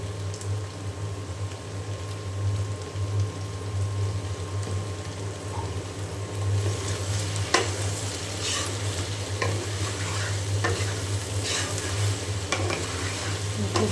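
Okra seasoned with turmeric and salt sizzles steadily in a pan, a continuous close frying hiss broken by occasional sharper crackles and stirring scrapes, with no voices.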